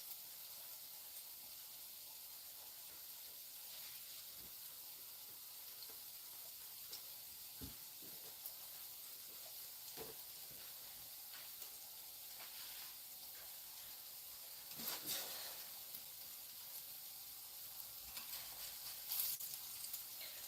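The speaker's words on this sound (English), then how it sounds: "Anthony's here frying the plantains, honey." Plantains fry in a pan with a faint, steady sizzle and hiss, with occasional soft pops and stirring noises.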